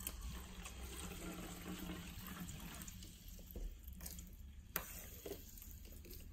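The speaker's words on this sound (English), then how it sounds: "Let's pour some water in." Crystal Geyser sparkling spring water is poured into a container, giving a soft, continuous splashing and fizzing that fades to light crackles with a sharp tap near the end, quiet and close.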